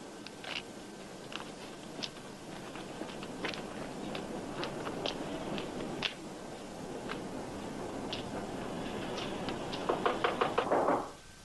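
Knocking on a house door in a 1950s-style police drama: a series of sharp raps, spaced unevenly at first, then a quick cluster of knocks near the end, with no talking.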